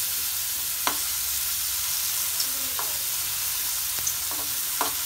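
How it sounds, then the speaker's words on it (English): Mushrooms fry over a low gas flame in a pan or kadai, giving a constant gentle sizzle with a few faint scrapes of stirring, steady and close. "Now fry the mushroom like this in the pan or kadai you are using"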